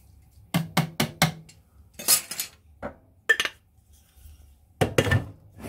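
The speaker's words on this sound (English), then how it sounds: "one uses a spoon to mix it all together to make sure that the sugar is well mixed in and gone" A spoon clinks against a bowl while stirring sugar into banana, honey and peanut butter bread batter, several quick taps in bursts with pauses between, close and fairly crisp.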